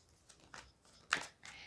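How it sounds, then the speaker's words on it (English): Playing cards being shuffled on a table, heard as a few quiet, brief papery riffles and flicks with soft gaps between them and no voices. "please feel free to fast forward past all of the shuffling"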